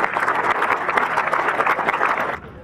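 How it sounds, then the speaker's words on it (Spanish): A crowd gives loud, sustained applause for an honoree at the inauguration of the El Colilo sports facility, the dense clapping holding steady and then stopping abruptly near the end. "Yo quiero que le pidamos entonces un fuerte aplauso al homenajeado de hoy"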